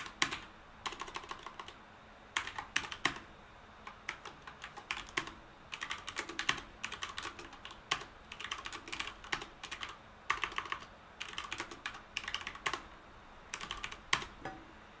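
Typing on a computer keyboard comes in quick bursts of crisp, close key clicks, pausing briefly between runs while no one speaks.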